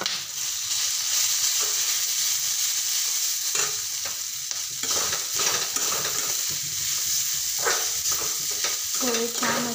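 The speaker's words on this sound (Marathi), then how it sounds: "पोहे छान असे मिक्स करून घेते" Poha with cooked peanuts and turmeric being stirred and tossed in a frying pan, a steady close sizzle with scraping spatula strokes and occasional clinks against the pan throughout.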